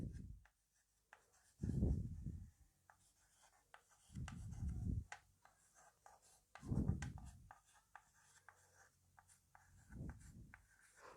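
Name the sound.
teacher writing number of people watching soccer game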